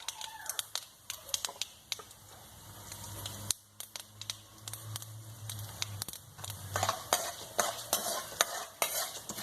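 Urad dal dropped into hot oil with popped mustard seeds for a Kerala-style pineapple thoran, a crackling sizzle broken by frequent sharp spoon scrapes and clicks against the pan, close and busy.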